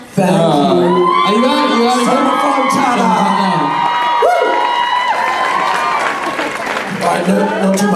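A convention panel audience cheers loudly and continuously, with whoops and shouts from a packed crowd close at hand and scattered claps mixed in.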